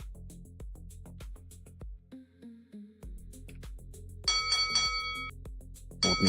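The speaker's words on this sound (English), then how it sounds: "Opening bell." A stock market opening bell rings in bright, sustained tones over a steady rhythmic beat, with a second burst of ringing near the end.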